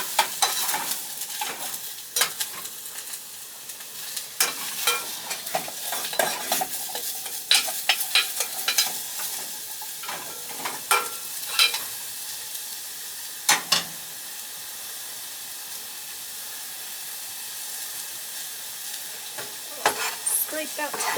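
Ingredients sizzle and fry in a pan while being stirred for kimchi jjigae, with repeated scraping strokes over a steady hiss, close and moderately loud, no talking.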